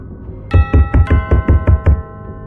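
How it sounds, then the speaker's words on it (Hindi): Eight loud, evenly spaced knocks strike a door in a quick steady rhythm, each thud ringing with a bell-like tonal tail that blends doorbell chimes into the pounding, close and alone without voices. "अब डोरबेल के साथ साथ जोर जोर से किसी के दरवाजे को खटखटाने की आवाज़ भी आकांक्षा के कानों में गूंज रही थी"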